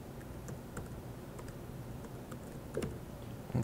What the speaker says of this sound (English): And I'll type in my password.